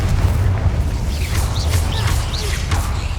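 Incendio fire spell from Hogwarts Legacy erupts in a loud, steady whooshing roar of flame with a heavy low rumble, holding for a few seconds with brief crackling flares on top.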